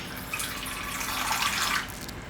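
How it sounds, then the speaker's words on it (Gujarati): Water poured from a vessel onto vermicelli soaking in yogurt while preparing vermicelli idli, a steady, moderately loud splashing stream lasting about two seconds with no voices. "થોડુંક પાણી હજી નાખશું આપણે."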